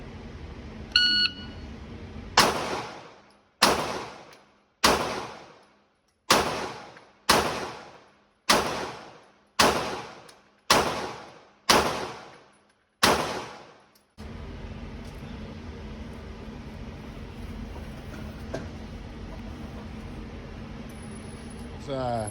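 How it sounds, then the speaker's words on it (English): Handgun shots fired at targets in an active shooter training drill, preceded by a timer beep; ten sharp loud shots in a steady rhythm, each with a short echo, then quiet range ambience. "Just shoot the center out of the top one as fast as you can shoot the center out of the top one"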